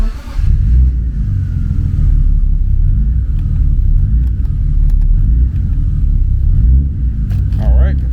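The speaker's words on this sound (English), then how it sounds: "So let's crank this thing up, see what it looks like." A BMW E36 engine cranks and settles into a steady running rumble, heard close and loud with someone talking over it throughout.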